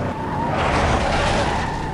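A Ford Mustang skidding through a turn in Need for Speed Most Wanted Redux, a loud, sustained tire scrub and engine roar lasting a couple of seconds with no talk over it.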